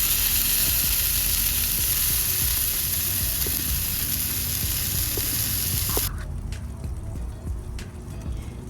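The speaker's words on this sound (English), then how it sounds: "So I will be cooking some burgers." Burgers frying on a camp stove at an outdoor day camp give off a loud, steady sizzle that crackles continuously before dropping to a softer hiss near the end.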